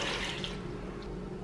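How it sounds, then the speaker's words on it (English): About two cups of water poured into a 32-ounce glass mason jar, a soft running, splashing trickle that is loudest at the start and fades to a quiet, steady stream. "So about 2 cups of water."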